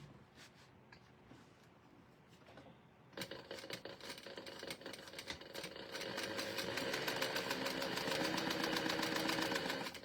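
Sewing machine stitching down the sides of a leather crossbody bag, starting after a quiet pause and running as a steady, rapid mechanical stitching hum that grows slightly louder.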